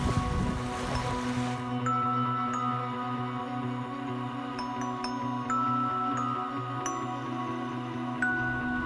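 Carnival Miracle cruise ship under way at sea, a steady, loud, broadband rumble of engine hum and rushing water, with faint high tones chiming now and then above it.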